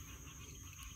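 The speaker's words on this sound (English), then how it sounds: "I don't know if you guys can hear all those green tree frogs behind me" Green tree frogs call in a Florida wilderness area at Lake Harney in mid-July, a dense, steady chorus of overlapping trills and croaks mixed with insect buzz, faint and continuous with no voices.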